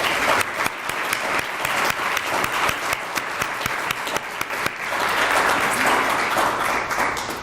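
Sustained applause from an audience at a World War I memorial rededication ceremony, a dense, steady wash of many hands clapping that carries through without pause and swells slightly near the end.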